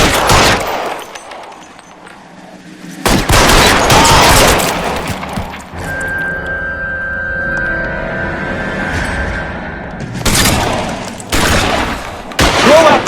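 Shootout gunfire in the video game L.A. Noire: loud bursts of rapid shots, a long volley early, then a lull with a held tone and background din before further heavy volleys near the end.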